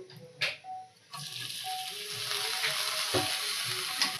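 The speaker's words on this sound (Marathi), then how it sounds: "आपले तांदूळ असे छान असे भाजून घ्यायचे" Washed barnyard millet rice frying in ghee in a pan over low heat, a steady close sizzle with a few scraping stirs and light clinks near the start.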